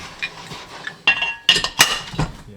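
A metal handle is fitted back onto a cooking pan with a few sharp clinks and knocks of metal on metal, spaced unevenly in a kitchen, with faint bumps of utensils between them.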